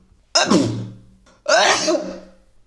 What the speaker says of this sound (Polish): Będę kichać